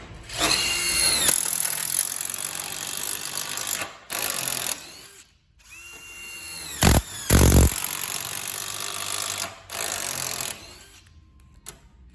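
A Panasonic impact driver drill whines in several bursts, pitch climbing and dropping as it bites into metal, with short pauses and a clattering thump midway.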